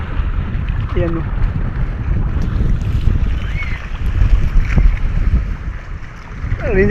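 Strong monsoon wind roars steadily at a seawall under overcast skies, a loud continuous buffeting rush with wind noise on the microphone and waves washing in the background.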